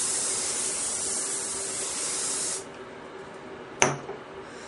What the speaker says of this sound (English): A little bit of hairspray will fix her up nice and good.